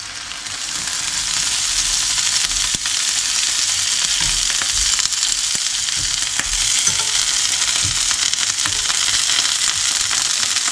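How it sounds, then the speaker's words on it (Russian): Stuffed squid fries steadily in a pan with a dense, loud, continuous sizzle, broken by occasional crackles and stirring scrapes, heard up close with no talking. "Теперь нам нужно все это дело немножко обжарить"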